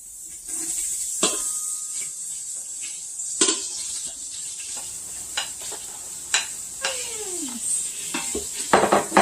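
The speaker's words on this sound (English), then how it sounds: "my butter is getting melty and bubbly, so now I'm going to put in the onions" Onions going into melted, bubbling butter in a pan for risotto, with a steady faint sizzle under occasional spoon scrapes, stirring and clinks of utensils against the pot.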